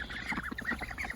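A Chinese goose calling close by in a short burst of repeated honking, nasal cries over a steady background, with no speech.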